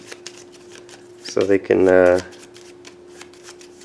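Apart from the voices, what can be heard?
shuffling a deck of game cards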